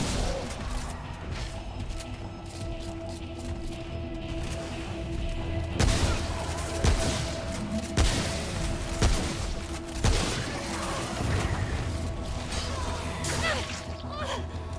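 Shotgun blasts in the game Remnant: From the Ashes: several sharp booming shots at irregular intervals over a constant mechanical background hum, with clicks and whooshes between shots.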